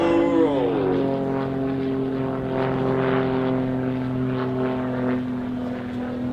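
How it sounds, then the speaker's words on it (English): Grob 115E Tutor light aircraft with a 180 horsepower Lycoming piston engine flying overhead at the Duxford Battle of Britain airshow, a steady droning propeller hum with a falling pitch shift as it passes, loud throughout. "It's constructed of a carbon composite material and has a 180 horsepower Lycoming piston engine"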